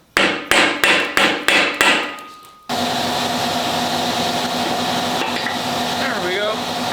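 Five evenly spaced hammer taps on parts of a 9.75 axle from a 2004 Ford F-150, crisp and close, followed by a loud steady mechanical hum that continues to the end.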